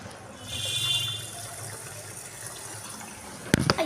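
Tap water runs with a steady, soft hiss as something is rinsed a second time, followed by a brief clatter near the end.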